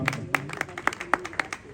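Applause from an audience at a community group meeting, a series of sharp clapping bursts spaced unevenly over a low murmur of room noise.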